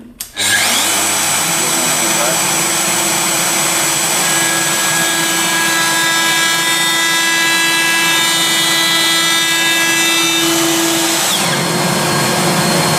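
A CNC router spindle fitted with a small-diameter milling bit spins up and runs freely in the air, a loud steady high-pitched whine with sustained tonal harmonics, close and continuous.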